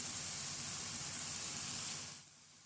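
Boiled potatoes drop into a hot pan of spices for aloo paratha filling, raising a steady, soft sizzling hiss that fades noticeably toward the end, with no voices.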